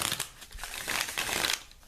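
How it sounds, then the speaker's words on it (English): A Universal Waite Tarot deck being shuffled by hand, giving soft papery riffles and slides in several bursts close to the listener, with no talking. "taking the deck in hand, I'm going to shuffle the cards"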